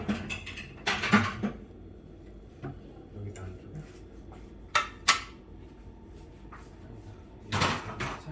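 Scattered clinks and knocks of plates and dishes being set down and moved as freshly baked sausage bread comes out, with short gaps between them, close by.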